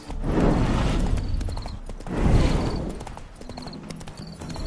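A horse in The Witcher 3 video game clops along with steady hoofbeats and lets out a whinny, loud and close, with no talk over it.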